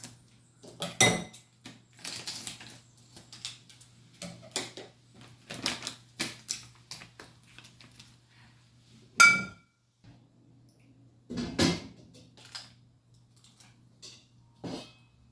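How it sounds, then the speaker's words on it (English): A spoon stirs dried malt extract into a metal brewing pot for homemade beer, making scattered clinks and scrapes that vary from sharp taps to soft rattles, with quiet gaps and a low steady hum underneath. "I'm going to stir this in to prevent any from sticking to the bottom of the pot."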